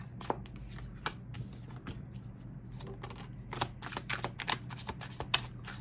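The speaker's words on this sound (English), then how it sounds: "I just let them fly out of the deck when I shuffle." Tarot cards shuffled by hand during a love reading, giving a run of quick, light riffling clicks and card snaps over a steady low room hum.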